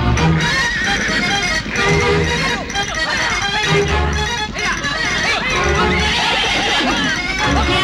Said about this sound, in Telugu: ఈ అడవి గుర్రం, దాన్ని పట్టడం వీళ్ళ తరమా?